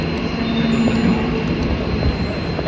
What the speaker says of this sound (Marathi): ट्रेन आलेली आहे आणि आम्ही ही ट्रेन पकडून जाणार आहोत आमच्या घरी.